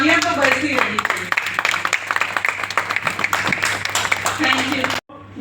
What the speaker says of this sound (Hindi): आज की तारीख में भी सर के लिए तालियां तो बजती रहनी चाहिए।